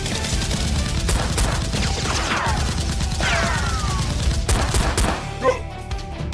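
Nerf blasters fire during a Nerf war, giving a few quick mechanical pops and thumps amid a busy, noisy backdrop, with no clear talk.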